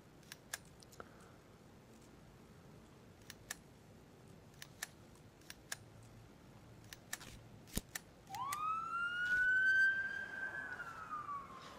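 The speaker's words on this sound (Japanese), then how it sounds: "サイレンを鳴らす。" Police car siren in This Is the Police 2: after scattered faint clicks and ticks, a siren wails up sharply and sweeps on steadily, fairly loud and alone to the end.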